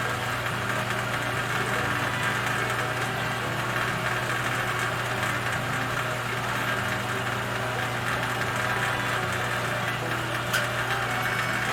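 A machine drone hums steadily with a low mechanical tone, a drill bit cutting metal into curls, running continuously at an even pitch throughout.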